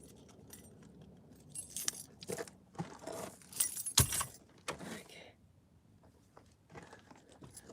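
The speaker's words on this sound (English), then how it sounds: "Get my keys." Keys jangling close by, several bursts of bright metallic clinks and rattles, one sharp loud clatter midway, with quieter rustling and handling in between on a hot day by a lake.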